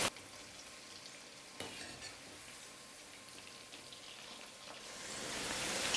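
Chicken for dragon chicken fries in a pan over a medium flame while a ladle stirs it now and then, giving a soft, continuous sizzle with scraping stirs, and the crackle grows louder toward the end.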